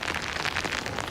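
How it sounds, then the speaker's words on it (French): Steady, dense rain pattering on a sailing boat, close and loud, with a continuous hiss of drops over the whole short stretch and no voices. "Et qu'importe la pluie, il a le bateau en main."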